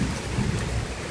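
Steady heavy rain pours down with a low rumble of thunder underneath, a dense continuous wash of sound with no voices.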